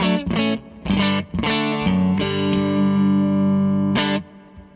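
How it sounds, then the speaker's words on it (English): Electric guitar chords through a Zander Circuitry Exosphere reverb pedal, struck in a few short bursts, then a long sustained chord ringing out with a wash of reverb before a final brief strum. "That's pretty much the sound of the reverb"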